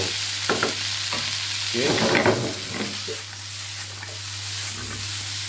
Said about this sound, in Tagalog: Ganito lang po kasimple magluto ng gisadong sitaw.